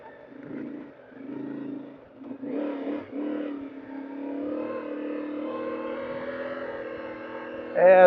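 A motorcycle engine ridden slowly through water and deep sand, mid-pitched revving that rises and falls under throttle with a louder surge at the end, heard beneath a rider talking.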